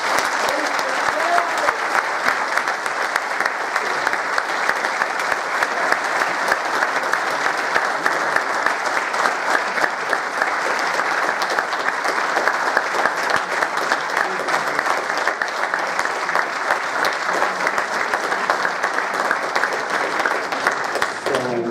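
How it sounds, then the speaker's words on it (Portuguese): Sustained, dense applause from a large audience at a CD Mafra sports club gala, loud and steady throughout with no break. "Sem dúvida merecidos estes aplausos"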